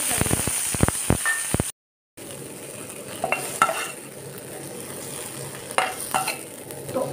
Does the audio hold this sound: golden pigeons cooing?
no